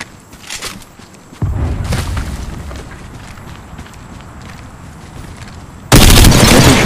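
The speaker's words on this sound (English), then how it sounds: "Throwing thermite grenade" A thermite grenade goes off in Apex Legends Mobile, played as Mirage: a sudden loud blast with a crackling burn that tapers slowly, then a second harsh, close burst near the end.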